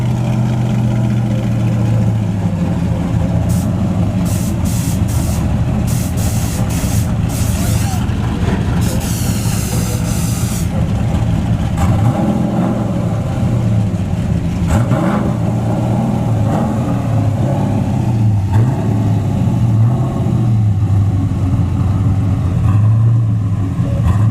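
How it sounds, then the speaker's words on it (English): Nitrous-fed fourth-generation Camaro and a C4 Corvette bracket racer run a drag race at Bradenton Motorsports Park, their engines roaring loud and steady throughout with rising revs and a broadband track-side din. "we got the nitrous 4th Gen Camaro versus Kryptonite, the C4, the Bracket Racer"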